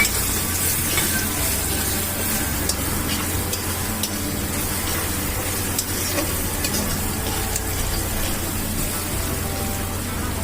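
Finely chopped onion frying in hot oil with asafoetida, a steady dense sizzle with faint stirring scrapes, continuous and fairly close throughout.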